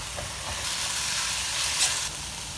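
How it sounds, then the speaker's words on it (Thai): Instant noodles stir-fried with onion in a hot pan for spicy Thai drunken noodles, giving a constant loud sizzle with a few stirring scrapes and a brief hiss near the end. "เรามาผัดกันต่อครับ"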